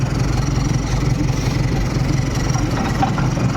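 A tractor engine chugs at a fairly steady idle at a busy rural gathering with around a hundred tractors, its low rumble continuous and close, with no voices over it.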